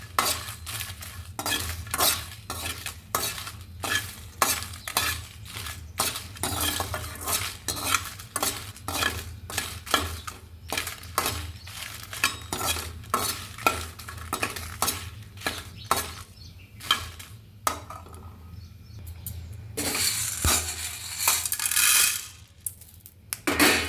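Peppercorns and dried red chillies rattle and sizzle in a hot pan while being stirred, with rapid clattering taps of spoon against metal and a light fry hiss, close and busy throughout.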